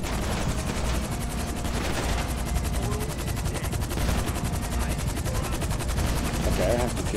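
Helicopter in GTA 5 Online, its rotor chop pulsing steadily throughout, mixed with rapid bursts of machine-gun fire, loud and continuous.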